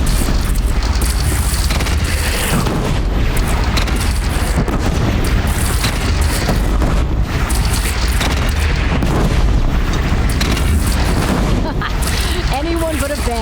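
Oseram cannon fire in the video game Horizon Zero Dawn, a dense continuous roar of booms and blasts layered with battle noise, loud and sustained throughout.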